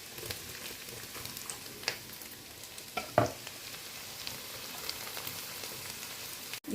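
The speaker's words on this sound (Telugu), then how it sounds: "బాగా వేయించుకునేసి ఇంకా చాప్ చేసుకున్న ఆనియన్స్ని ఇప్పుడు వేస్తున్నానండి." Chopped onions frying with paneer in a pan, a soft, quiet sizzle with scattered crackles and a few sharper pops.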